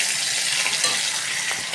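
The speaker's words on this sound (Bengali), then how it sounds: "বাঁধাকপির জন্য মাছের মাথা ভেজে নিচ্ছি" Fish head frying in hot oil for a cabbage dish, a steady close sizzle and spatter that runs evenly throughout, with no talking.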